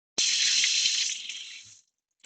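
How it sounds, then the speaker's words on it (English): Water runs steadily from a kitchen tap for a couple of seconds while hands are rinsed under it, a close, bright rushing hiss that starts abruptly and tapers off before stopping. "Next step is to rinse off my hands again."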